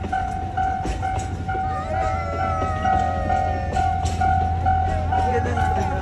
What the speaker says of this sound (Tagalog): Ayan na, ang tren.